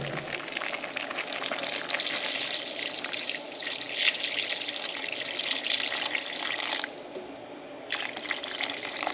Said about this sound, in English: So I'm going to add a little more water to it right now.